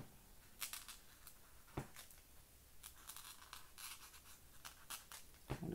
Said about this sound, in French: le petit bruit n'est pas agréable parce que ça croche sur mon papier